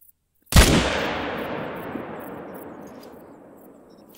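A single hunting rifle shot in theHunter: Call of the Wild rings out after a brief silence, a sharp loud crack followed by a long rolling echo that fades over several seconds.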